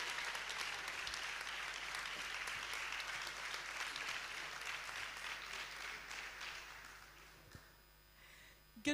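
An audience at a corporate leadership summit applauds as a speaker is welcomed. The clapping is dense and steady, then fades out near the end.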